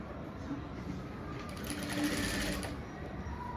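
A sewing machine stitching a blouse runs in a short, steady whirring burst that swells in the middle and then eases off, close by and moderately quiet, with no talking over it.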